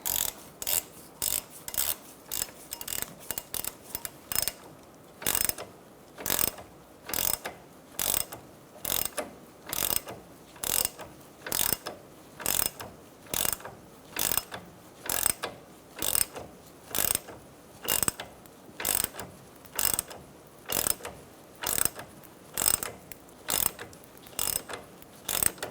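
Ratcheting strut spreader tool being cranked to open a steering knuckle on a 2004-2009 Mazda 3, giving a long regular series of sharp mechanical clicks, close and alone without speech.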